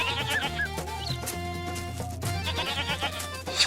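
A goat bleats several times in a village folk tale, over a soft musical background with steady tones; the short wavering calls come through clearly at moderate loudness with no talking.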